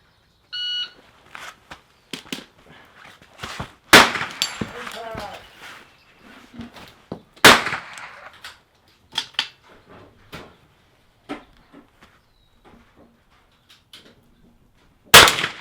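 Rifle shots ringing off steel targets at an outdoor NRL22 rimfire match, heard as sharp, bright clangs spaced irregularly over the clip, a few loud and close, others fainter, with occasional voices between impacts.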